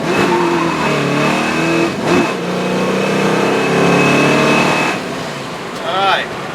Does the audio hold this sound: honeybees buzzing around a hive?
no